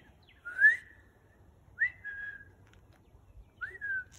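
Three short sharp whistle blasts used in dog training, each a bright bending tone spaced about a second or more apart against a quiet background.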